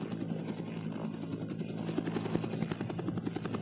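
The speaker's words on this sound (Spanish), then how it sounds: "El estruendo de las aspas del helicóptero lo llenaba todo" A helicopter's rotor blades chop in a rapid, pulsing rhythm over a loud engine roar, steady and close without a break.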